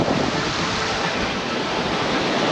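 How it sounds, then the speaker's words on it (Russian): Steady wind roaring over a seaside beach on a warm early-summer day, a continuous broadband rush with surf-like texture filling the whole stretch, loud and unbroken, no voices. "Послушаем шум ветра."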